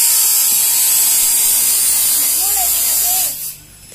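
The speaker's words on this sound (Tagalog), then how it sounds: "Maingay po at meron pong nagmamasilya. Ginagawa ang mesa." A power tool runs steadily and loud while a table is being built, its continuous buzzing drone holding for several seconds before cutting off near the end.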